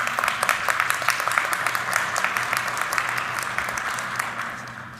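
Audience at a Black Hat USA 2025 security conference gives sustained applause after a talk, dense steady clapping throughout that thins and fades slightly near the end, with no speech over it.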